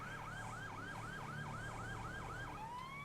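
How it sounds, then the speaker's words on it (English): Police car siren in the video game GTA V wailing in a rapid, regular up-and-down yelp, steady and fairly close, then shifting to a rising sweep at the end. "I should perhaps turn my sirens off any minute now, because we might arouse suspicion."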